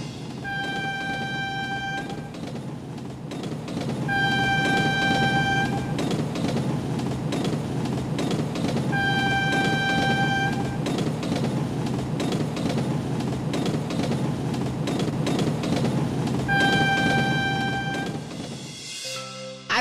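A cartoon train rolls along with a steady rumbling chug, its horn tooting in repeated two-tone blasts that recur about four times over the run.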